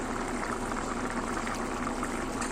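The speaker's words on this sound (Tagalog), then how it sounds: "takpan lang natin at simmer for 20 to 25 minutes" Beef stew simmers in a pot, a dense continuous bubbling and gurgling close up, steady throughout with no voices.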